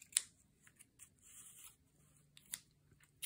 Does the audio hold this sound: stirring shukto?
no